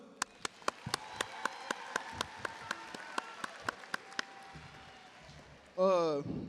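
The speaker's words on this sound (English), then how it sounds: "Let's clap it up." Scattered individual handclaps at a high school graduation ceremony, sharp and regular at first, then thinning out and fading, followed by a brief louder burst of voice at the end.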